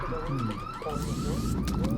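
A car alarm blares in a video game set in a city, a loud repeating electronic wail with rising and falling sweeps that carries on without a break.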